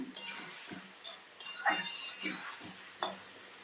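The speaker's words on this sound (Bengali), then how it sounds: "এখন কষাতে লাগলাম" A spoon scrapes and clinks against a pan while spice paste with turmeric and Kashmiri chili powder fries for snakehead fish curry, a few quiet close strokes with faint background murmur.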